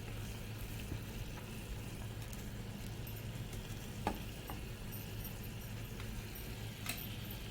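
A dosa cooking on a pan with ghee spread over it, a faint steady sizzle with a few light scraping and clinking touches, no talking.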